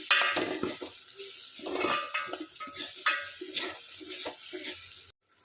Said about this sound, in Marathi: त्याला छान तेलामध्ये फ्राय होऊ दे